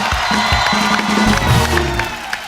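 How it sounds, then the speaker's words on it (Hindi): A TV comedy show studio audience cheers and claps loudly, with shouts and voices rising over the applause. "जोरदार तालियां एक बार"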